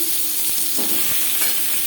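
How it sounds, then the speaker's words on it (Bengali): Loud, steady sizzling of panch phoron and dried red chillies frying, with raw mango pieces dropping into the hot pan and a spoon stirring. "পাঁচফোড়ন শুকনো লঙ্কা ভাজা হয়ে গেছে এই পর্যায়ে দিয়ে দেবো টুকরো করে কেটে রাখা আম"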